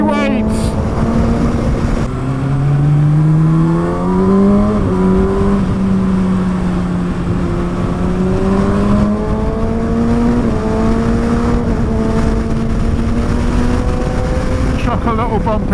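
A 2019 Kawasaki ZX-6R with a standard slipper clutch under way on the road, its engine note loud and close, droning steadily while rising and falling in pitch as the throttle shifts, over constant wind rush.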